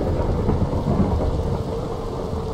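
Thunderstorm in the Minecraft video game: a steady, loud roar of heavy rain with low rumbling thunder running continuously underneath, no voices.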